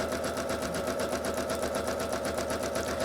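A sewing machine stitches a variable zig zag for thread painting, running steadily at even speed with a fast, regular mechanical chatter close by and no other sounds.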